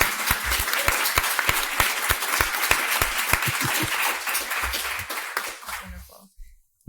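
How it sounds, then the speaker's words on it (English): Audience applause for congressional staffer Kristin and her team at a Georgetown Levin Center event on the January 6 Committee, a dense burst of indoor hand clapping that holds steady for several seconds before breaking off at the end. "how about a round of applause for Kristin and her team?"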